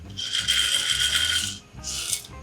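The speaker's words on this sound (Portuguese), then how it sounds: "Minha impressora 3D fez cocô." A 3D printer pushing out a filament blob gives a loud mechanical rasping whir that runs about a second and a half, pauses briefly, then returns for a shorter burst.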